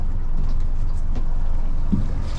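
Yamaha 200 outboard motor idling on a 2016 Duckworth Pac Pro 22 boat, a steady low continuous engine rumble with water noise, heard close and alone.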